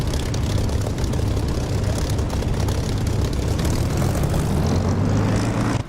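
Aircraft engine at full power for takeoff in the DCS flight simulator, a loud, continuous droning roar with a steady low rumble throughout, close and unbroken with no talking.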